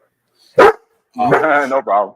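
A pet dog indoors lets out one sharp, loud bark, then a longer run of tonal barking and yelping follows close by. The barks sit right in a conversation between people.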